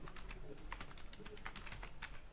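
Fast, irregular clicking of keys on a computer keyboard, rapid typing, quiet and close, with no voice over it.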